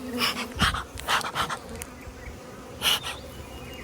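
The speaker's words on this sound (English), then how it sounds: "the bees are not real happy" Honey bees from hive boxes buzz loudly at close range on a cloudy day with rain coming, agitated swells of droning that rise and fall as individual bees fly past.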